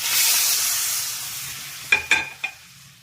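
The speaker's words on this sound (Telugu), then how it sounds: "కరేపాకు మా దగ్గరనే ఉంటుందండి. తాళం చేస్తున్నానండి." Curry leaves hit hot oil in a pan for a tempering, giving a loud hiss of frying that slowly fades, followed by three quick clinking stirs or taps near the end.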